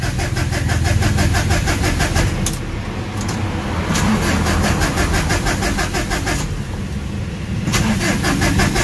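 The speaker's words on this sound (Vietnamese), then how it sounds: "nổ máy thử ra" A Ford Ranger 2-cầu pickup, parked for a long time with a weakened battery, cranks over and over: loud, close, rhythmic starter churning that repeats in several attempts, broken by short pauses, with the engine catching and running rough between tries.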